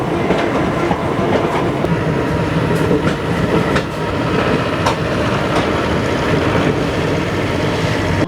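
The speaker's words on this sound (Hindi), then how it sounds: "हमारी ट्रेन जो है यहाँ 9:20 पे ही चली आई" Delhi to Jodhpur passenger train pulling into a station, a loud, steady rolling roar of wagons with rhythmic clickety-clack over rail joints and sharp metallic clanks throughout, close by and continuous with no voices.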